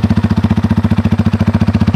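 A Honda Tiger motorcycle engine idles with a loud, deep, steady chug from an aftermarket exhaust with a sound-changing device fitted, each pulse evenly spaced and close by.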